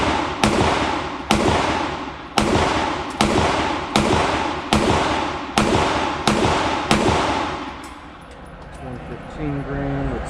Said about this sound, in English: A little rapid fire here